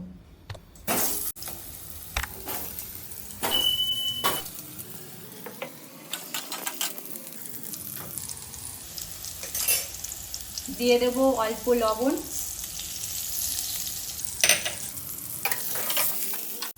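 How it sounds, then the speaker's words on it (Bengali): Potatoes frying in a wok of hot oil left from frying eggs give a continuous near sizzle, broken by sharp utensil clinks and scrapes, while someone speaks briefly. "এবার আমি এই তেলেই আলুগুলো ভেজে নেব"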